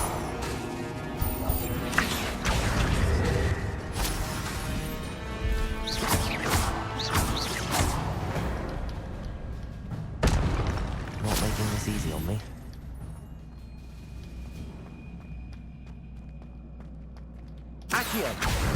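Explosive blast spell cast in the Hogwarts Legacy video game, a loud burst followed by crashing and smashing debris amid dense game effects, with a second impact later and a voice speaking over the action.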